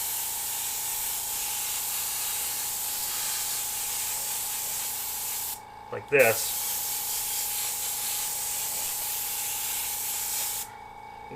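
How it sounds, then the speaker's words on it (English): Airbrush spraying thick black paint through a hand-held template held about an inch off the surface: a steady close hiss running nearly throughout, broken by a brief pause and a short burst, with a few words spoken in the middle. "And I'm just going to spray"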